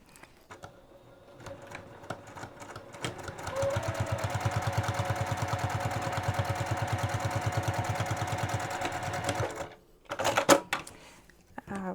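A sewing machine stitches French seams on a fabric boxy bag, starting with slow hesitant clicks and then running in a fast, even rattling hum for several seconds before it stops, followed by handling noises.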